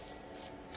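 Oracle cards shuffled by hand, giving a steady, soft papery riffle and rub that runs through the whole short moment at a faint level, with no talking.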